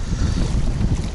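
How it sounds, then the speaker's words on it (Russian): Strong autumn wind gusting over Tagil pond: a brief, loud rush of buffeting noise churns against the microphone in uneven low thumps, with no voices. "Ветер, порыв пошел."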